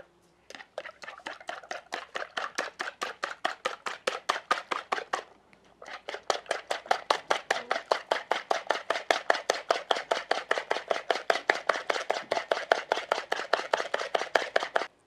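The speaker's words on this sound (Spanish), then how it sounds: "Voy a empezar a batir." Eggs with a little water and salt are beaten briskly in a bowl, a fast, steady run of rhythmic whisking strokes with a brief pause early on, close and alone.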